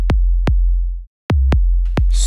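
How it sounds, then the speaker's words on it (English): Deep, clean sine-wave kick drum hits thump in a steady pattern, five booming beats with a brief gap, and a faint hiss near the end. "So we're trying to make this kick more interesting."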